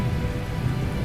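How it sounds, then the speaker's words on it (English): Large hail, golf ball to baseball size, falling during a storm chase, heard as a loud, dense, continuous roar of pounding impacts. "Look at the hail. I want to say golf ball size, maybe baseballs. Lots of baseball hail."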